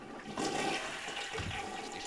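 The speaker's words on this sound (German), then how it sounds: "Ist die Spülung laut?" Toilet flush in the Die Sims 2 video game, a rushing swirl of water that surges in after a quarter second and keeps draining steadily to the end, heard alone at moderate level.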